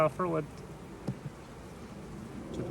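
A low buzzing hum of honeybees at a hive runs steadily underneath, with a brief voice at the start and a few faint knocks.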